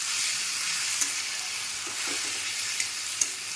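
Ginger and garlic paste fries steadily in a hot pan for brinjal masala curry, a continuous close hiss with a few soft clicks and stirring scrapes, no voices.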